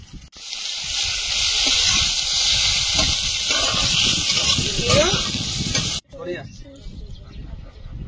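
Eggplant and bitter gourd fry in a pan with a loud, continuous sizzle and hiss that is close and steady before cutting off. Someone talks over it.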